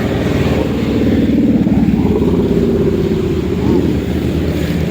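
Motorcycles on a group unity ride along the Marilaque highway rumble past in a loud, continuous engine drone that swells slightly as they pass, with some faint talk underneath.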